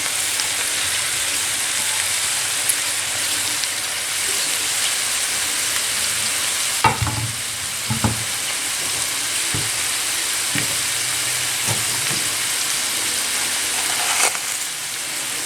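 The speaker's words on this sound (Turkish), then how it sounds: "Doğramış olduğum hindi bağlarını şöyle tenceremin içerisine bırakacağım." Chopped white chicory (witlof) sizzles steadily in a pot, a loud continuous hiss with a few sharper crackles and stirring knocks scattered through it.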